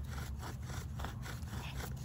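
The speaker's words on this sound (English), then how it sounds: "We got the bow drill going." A bow drill spins a wooden spindle against a wooden fireboard in an outdoor fire pit, giving a steady rasping friction with a regular back-and-forth rhythm, close and continuous.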